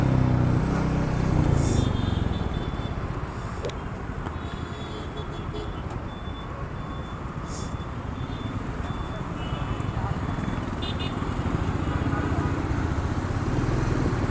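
A Royal Enfield Meteor motorcycle engine idles steadily nearby, with a continuous low, throbbing rumble throughout.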